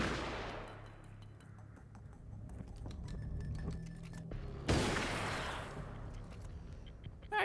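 Gunshots from the Alan Wake's American Nightmare video game, a few spaced sharp reports with ringing decay, one loud shot near the middle standing out over a quieter ambient game background.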